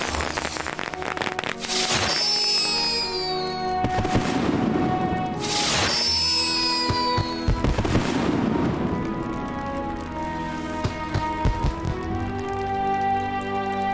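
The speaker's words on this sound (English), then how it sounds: "Gandalf of course said he had a very short supply of fireworks, but look at this." Fireworks at a wedding in the game Lord of the Rings Online: repeated whistling launches and loud crackling bursts, with booms and sparkling crackle filling the sky in steady succession.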